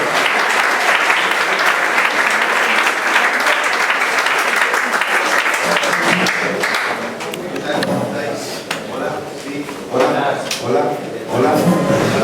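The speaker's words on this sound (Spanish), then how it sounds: "Vamos a dar un aplauso." Warm audience applause at a church summer camp gathering, dense clapping for several seconds that thins out as a speaker begins talking.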